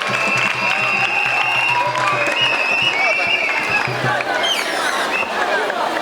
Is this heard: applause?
yes